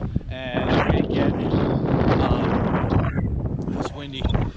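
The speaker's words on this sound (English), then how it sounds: "it's windy" Wind blows outdoors during a walk around Okinawa, buffeting the microphone in loud, rough gusts while someone talks over it.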